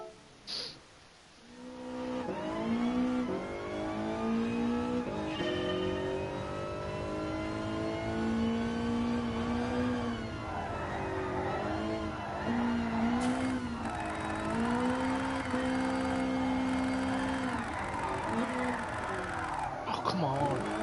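A drift car in GT Sport, tuned to maximum power, revs hard and holds high RPM through long slides, the engine note rising and falling with gear changes and occasional tire squeal, while someone talks over it.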